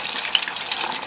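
Flour-coated chicken wings frying in hot oil give a steady, close sizzle with fine crackling pops throughout, heard alone without voices.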